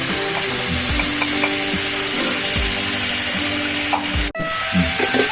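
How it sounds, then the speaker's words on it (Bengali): Spices dropped into a hot pan fry with a steady sizzle alongside dry red chilli, green chillies and bay leaf paste, with occasional clinks and stirring scrapes close by and a brief dropout near the end. "এবার এই মশলাটা দিয়ে দিচ্ছি"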